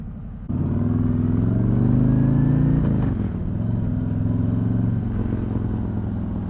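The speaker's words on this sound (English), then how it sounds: "This is a 2019 Harley-Davidson Street Glide. We got the 107 motor in here, and I'm on my way to the house right now." Loud, steady engine drone of a 2019 Harley-Davidson Street Glide with a 107 motor while riding, a low rumbling roar that kicks up after a brief quieter start and holds with slight shifts in pitch.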